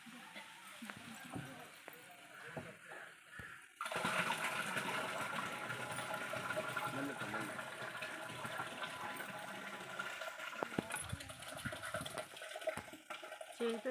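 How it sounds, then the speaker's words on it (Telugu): Cow dung mixture poured into a 100-litre tub of water, a sudden sloshing gush that runs on steadily for several seconds, preceded by quiet handling sounds and with a voice speaking under it. "ఇప్పుడు ఆవు పేడ మెత్తగా కలుపుకొని 100 లీటర్ల నీటిలో వేస్తాం."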